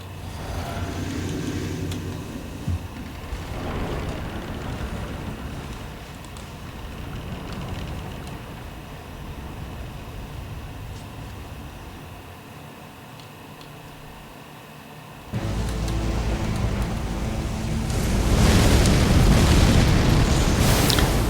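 Boss's follow-up explosions in Elden Ring, sustained roaring blasts and booms that ease off midway, then a sudden loud burst and heavier rumbling explosions that build to the end, no speech.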